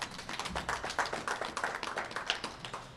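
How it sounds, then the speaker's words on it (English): A handball crowd at a national four-wall championship applauds a player, with rapid, dense clapping that continues steadily, moderately near and without speech. "You heard the round of applause from the crowd there."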